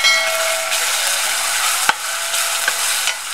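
Ground spices and turmeric sizzle steadily in hot oil in a pan, a close, continuous frying hiss broken by a couple of sharp scrapes from a spoon stirring them.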